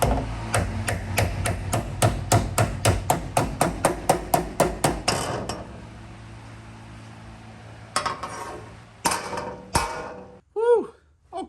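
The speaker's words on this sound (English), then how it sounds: "It's just a lot of hammering, but it's starting to take" Metal wing walls for a Sun Cruiser build are hammered into shape: a fast, steady run of sharp ringing blows for about five seconds, then a pause and a few scattered strikes and clanks.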